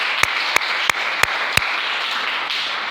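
A large church congregation applauding, a dense, steady roar of clapping heard up close, with a few sharper individual claps standing out at regular intervals.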